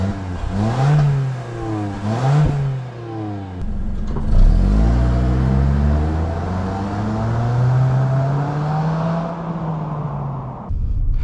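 A 2022 Toyota Corolla Cross engine revs up through gears on the road, rising and falling in pitch as it accelerates, then settles into a steady drone.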